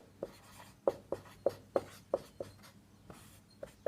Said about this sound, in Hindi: सबसे पहले मैं लिखता हूँ